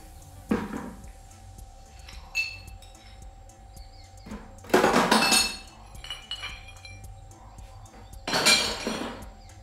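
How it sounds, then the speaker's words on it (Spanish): Broken glass shards by a swimming pool are picked up by hand, giving several separate clinks and scraping rattles, close and moderately loud, with quieter handling noises between them. "voy a recoger todos los vidrios que Almendra rompió."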